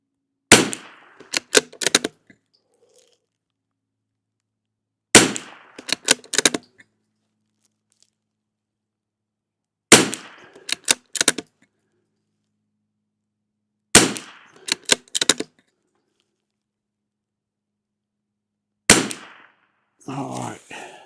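A rimfire rifle fires CCI SV rounds lubed with bear grease: five clusters of sharp, close cracks, each a quick string of shots, spaced about five seconds apart with silence between.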